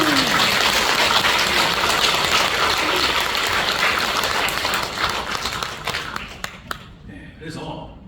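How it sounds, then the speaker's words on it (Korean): Applause fills an international conference hall during a Buddhist dharma talk, a loud dense wash of clapping that lasts about six seconds before thinning into a few scattered claps and quiet. "박수 한번 주세요."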